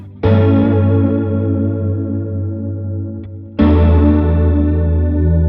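Electric guitar through a Line 6 HX Stomp XL with chorus effect: chords ring out loud with a shimmering, warbling chorus, struck twice and left to sustain, with a little distortion.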